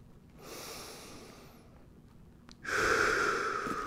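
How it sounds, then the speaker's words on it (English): Heavy, audible breaths during a sidelying knee-toward-knee exercise: one long inhale-exhale, then a louder, forceful breath close to the mic. "I gotta breathe."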